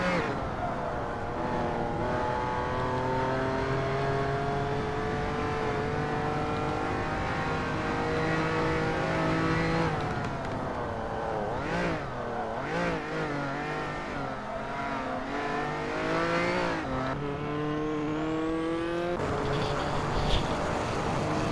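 Hot Wheels race cars lap a track in a video game, with engine drones rising and sweeping steadily through the passage. Pitch bends and gear shifts repeat throughout, loud and continuous with no talking.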